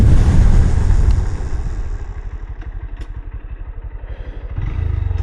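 A Honda X Blade 160cc motorcycle runs at about 70 km/h, its single-cylinder engine thrumming in a fast steady pulse after a louder rev that eases off, with wind rush close to the rider.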